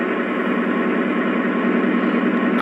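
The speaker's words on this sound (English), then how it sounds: "it gives the engine a much more throaty, bassy sound" A Lionel FM H24-66 TrainMaster model diesel locomotive plays a steady, throaty, bass-heavy engine rumble through its sound system, continuous and even throughout.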